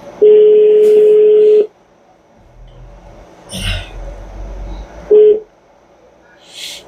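A telephone keypad sends a long steady dialing tone, then after a pause with faint rustling a second short tone, clear and close with no talk over it.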